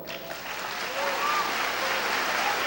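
Church congregation at a Sunday celebration service applauding, the clapping swelling up from near silence into a continuous, moderately loud wash of many hands.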